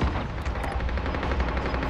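Rapid automatic gunfire in the Call of Duty Warzone Pacific video game, a dense burst of loud, close shots running continuously without pause.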